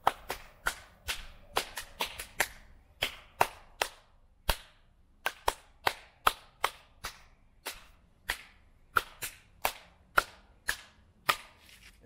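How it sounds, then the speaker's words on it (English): Two hands clap sharply alone at random, uneven intervals during a qigong exercise, each crisp smack standing out against near silence, about three dozen claps in steady succession. "Next, we're going to clap, ideally at random intervals, until our hands become tingly."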